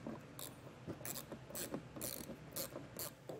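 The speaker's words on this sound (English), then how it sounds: "you might need a quarter inch bit with a small ratchet like this to be able to gain access to it" Small ratchet fitted with a quarter-inch bit removing bolts on a 2022 Chevrolet Traverse, giving steady repeated clicking in quick strokes, close by, with no talking.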